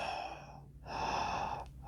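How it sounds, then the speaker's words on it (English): A person breathing deeply in from the stomach, two long slow breaths drawn in close to the microphone with a short pause between them. "that's breathing deeply from the stomach"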